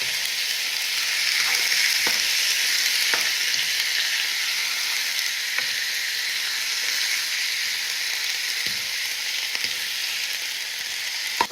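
Food browning in a frying pan, giving a steady, loud hissing sizzle that runs throughout, with occasional soft clicks and taps of stirring.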